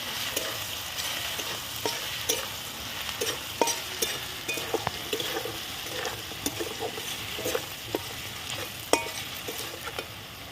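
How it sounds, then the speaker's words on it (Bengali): Potatoes fry lightly in oil with a continuous crackling sizzle, broken by frequent scraping clicks of a spatula stirring the pan, with no voices present. "আমার আলু ভাজা হয়ে গেছে হালকা করে"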